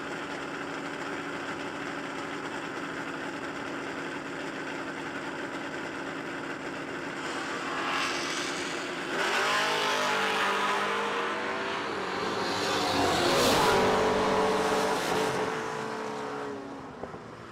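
Drag racing at the Bernie Mann Memorial No Delay Nationals, including an '83 Chevy station wagon: a steady idling rumble builds into loud, rising engine roar and revving from several race cars, swelling toward the end.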